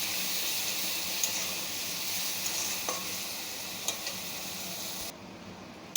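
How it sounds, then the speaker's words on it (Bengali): Crushed garlic and green chili paste sizzle steadily in hot oil as a spoon stirs them. Faint scrapes and small clicks break the hiss now and then, and the sound dips near the end with no talking. "ওটা দিয়ে তেলের মধ্যে একটু নেড়ে নেব"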